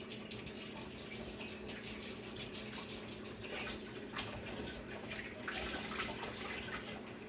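Steady water running and splashing into a container holding chicken heart, liver and eggs, a continuous broadband rush with a low hum underneath and no talking.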